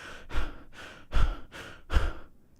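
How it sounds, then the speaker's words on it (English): A man breathes in an angry pattern as a demonstration: five forceful, rhythmic exhalations about half a second apart, close and loud, with no talking. "That is the pattern of angry breathing."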